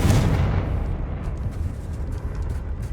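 Confringo blasting spell cast in the video game Hogwarts Legacy, a single loud booming explosion with a heavy low rumble that decays into a lingering roar.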